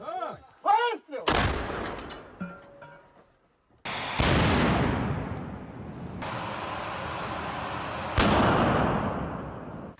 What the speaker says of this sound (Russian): Готовы? Да. Выстрел!